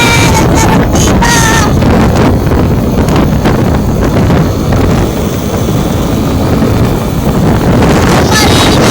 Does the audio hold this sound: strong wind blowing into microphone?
yes